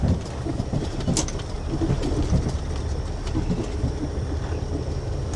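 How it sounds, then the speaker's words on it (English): Rumbling, clanking train cars shunting in a rail yard at Junee, a steady low roar with occasional metallic clicks and squeals, fairly close. "there's been 2 trains shunting in the yard here while I've been unloading"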